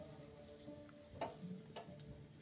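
Raw peanuts fry in oil with cumin seeds in a home kitchen pan, giving a faint, steady low sizzle broken by a few soft crackles and stirring taps, with no voices.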